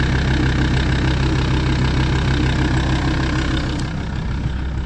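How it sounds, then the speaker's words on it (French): Engine of a scrapped truck idling with a big exhaust leak, a loud, steady, rough low rumble that continues unbroken without any speech. "il y a une putain de grosse fuite d'échappement quelque part"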